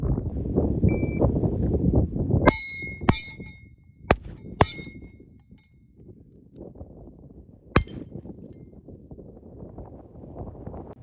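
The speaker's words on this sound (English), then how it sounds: "I guess I'm going to switch to shooting steels" Pistol shots ring off steel targets, a few sharp metallic clangs and pings spaced irregularly over a steady outdoor wind rumble at a competition range.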